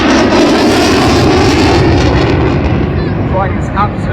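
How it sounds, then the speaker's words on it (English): Eurofighter Typhoon jet during an airshow display, a loud rumbling roar that fills the scene and slowly fades as the aircraft passes, with an announcer talking over it. "Flying this absolutely fabulous aircraft, showcasing its supreme capability, taking it all the way up to 600 miles an hour"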